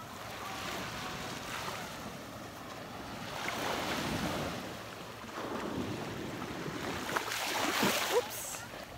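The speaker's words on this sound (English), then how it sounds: "I've got my feet somewhat wet with that tide coming in" Ocean waves wash steadily onto Kappu beach in Manipal as a calm tide comes in, a continuous broad surf rushing in gentle swells, with wind buffeting the microphone throughout.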